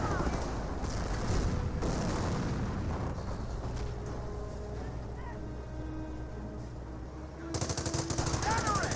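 A .30 cal machine gun firing in the World War II strategy game Company of Heroes, rapid distant gunfire rattling within a dense battle din of booms and rumbling, ending in a louder burst.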